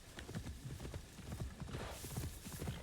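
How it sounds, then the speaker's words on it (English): A startled horse in the Assassin's Creed Shadows video game stamps its hooves in a quick, uneven clatter, moderately loud and near, with faint snorting and neighing mixed in. "we clipped the lantern and our horse freaked out"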